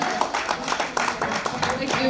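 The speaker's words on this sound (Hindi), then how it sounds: "तो तालियों के साथ स्वागत कीजिए मीनू जी का।" An audience claps together to welcome the singer Meenu at a music meet in Jaipur. The applause is dense, steady and fairly close, with crowd noise mixed in throughout.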